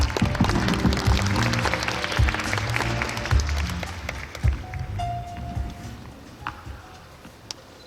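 Audience applause at the Sony Korea Alpha 9 camera launch event, a dense burst of many hands clapping that gradually thins out into scattered claps, with a faint tone near the end.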